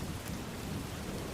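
Steady rain falls with low rolling thunder beneath it, a continuous quiet wash of drops with a dull rumble and no voices.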